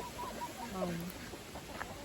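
Backyard chickens, including a white Plymouth Rock hen, clucking softly in short, faint calls amid light outdoor background noise.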